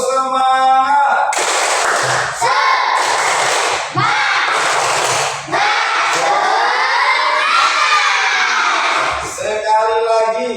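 A group in an Indonesian classroom or training session performs a rhythmic clapping chant with shouting voices, loud and close, with bursts of clapping and chanting running continuously across the whole stretch.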